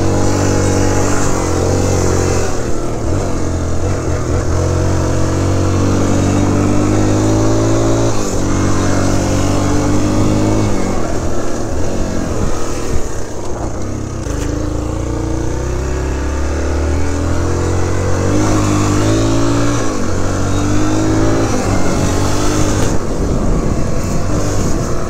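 A 2003 Suzuki DRZ125 dirt bike engine revs up and down through the gears while being ridden, loud and close, with its buzzing note rising and falling in repeated surges.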